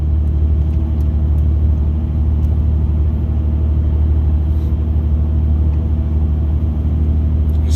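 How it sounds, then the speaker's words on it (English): An old Dodge car cruising uphill gives a steady, deep engine drone and road rumble, heard continuously from inside the vehicle at an even, moderate level. "The old Dodge is just cruising up these hills."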